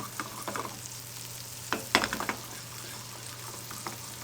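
Potato gnocchi fry in butter in a non-stick pan that is kept moving, giving a soft continuous sizzle with a low steady hum underneath and several short bursts of crackle and rattle as the pan is shaken.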